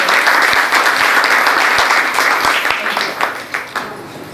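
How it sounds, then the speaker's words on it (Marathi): Dense audience applause at a felicitation ceremony during a Sankranti celebration, a steady wash of many hands clapping that holds loud and then thins out toward the end. "आता या तिन्ही सत्कारांसाठी मिळून एक मस्त टाळ्यांचा गडगडाट आहे."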